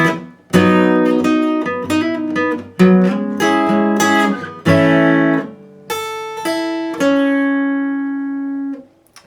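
Guitar plays part 2 of the second verse of a song, strummed chords and picked melodic notes ringing in several phrases before a final sustained note; clear, close and alone.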